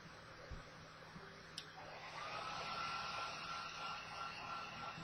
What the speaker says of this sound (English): All I'm doing is just waving the hairdryer back and forth on the hood.